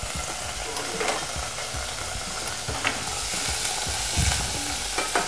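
Meat hits smoking hot oil in a pot for plov and fries with a dense, continuous sizzle, close and loud, with occasional soft clunks and pops.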